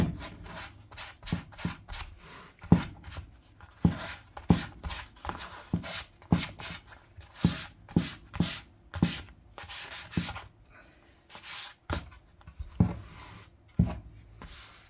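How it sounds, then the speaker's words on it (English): A super fine sanding pad is rubbed over a water-based top coat finish on a slightly rotten wooden heart, making close, quiet strokes in an irregular back-and-forth rhythm with brief pauses. "This is just a fine sanding pad."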